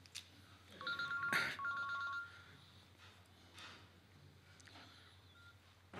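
A mobile phone rings nearby with a repeated electronic tone, two short bursts and then silence, over a low background hum.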